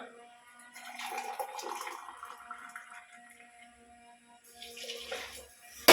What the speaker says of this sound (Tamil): தண்ணி அளந்து ஊற்றிடுவான்